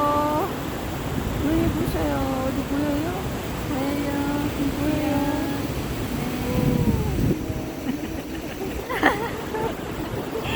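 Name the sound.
waterfall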